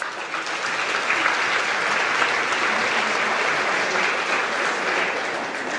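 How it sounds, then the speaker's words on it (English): Audience at the Pride of Barbados awards ceremony applauds a band, a steady wash of many hands clapping that holds evenly throughout and fades slightly at the end. "Give them a clap for that."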